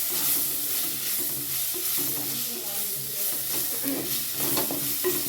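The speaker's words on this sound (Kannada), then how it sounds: "ಚೆನ್ನಾಗಿ ಮಿಕ್ಸ್ ಮಾಡಿ" Onions and tomatoes with curry leaves sizzle steadily in a pan while being stirred, a close, continuous fry with soft scraping strokes throughout and no talking.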